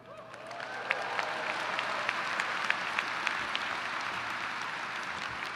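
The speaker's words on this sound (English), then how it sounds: "Hold the applause." An audience at a university winter commencement ceremony breaks into applause, a steady wash of clapping from a large crowd with a few sharper claps standing out.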